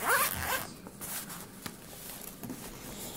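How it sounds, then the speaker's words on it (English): A zipper running along the outside of a pen pouch is pulled open in one quick, close rasp, followed by a few faint soft handling sounds. "it does have a really nice zipper that goes along the outside"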